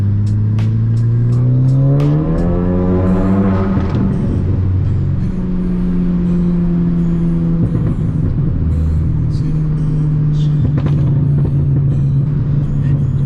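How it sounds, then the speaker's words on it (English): A Ford Focus ST drives along a bumpy road, its engine note rising steadily through a rev climb, then settling into a loud, continuous drone with occasional clunks from the road, heard from inside the cabin. "it feels really good driving the ST again"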